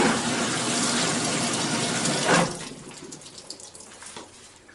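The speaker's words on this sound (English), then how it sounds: "It's gonna start loading some water in." A Kenmore Elite Oasis washer, started on a hot load, fills with water in a loud, steady rushing gush that drops off suddenly partway through, leaving a quieter trickling hiss with a few faint clicks.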